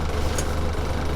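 A 1954 Morris Minor's 803 engine at low idle gives a steady, close, even rumble with a constant low throb and no change in pace.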